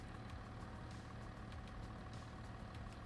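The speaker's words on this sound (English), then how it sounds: "that tractor being turned on is bugging me." A tractor engine idles steadily on a farm near a cornfield, a continuous low rumble with a faint periodic ticking that holds at a moderate, even level throughout.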